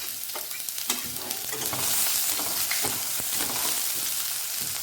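Cumin, ginger-garlic paste and popping mustard seeds fry in hot oil, a steady loud sizzle with crackles and spatters while the mixture is stirred, no voices.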